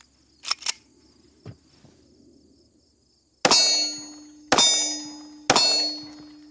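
A Glock 43X 9mm pistol with a full-size grip and slimline magazines fires three sharp, loud shots about a second apart, each ringing briefly, after a few faint handling clicks.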